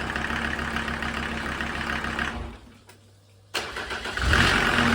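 Mercedes OM605 2.5-litre diesel with a mechanical injection pump driving an irrigation water pump, running loud and close, then dropping away briefly before roaring back up and revving.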